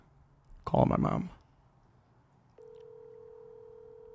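A person speaks briefly, then a phone on speakerphone gives a steady, continuous dial or ringing tone, moderately loud and alone in a quiet room.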